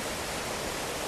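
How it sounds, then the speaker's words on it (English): The Tom Gill waterfall in the Lake District roars as a steady, broadband rush of falling water, loud and close, with no talking. "I've come up to Tom Gill Falls"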